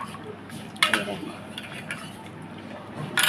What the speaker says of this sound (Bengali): ডালটা বসে গেছে, তো নেড়ে দেখিয়ে দিই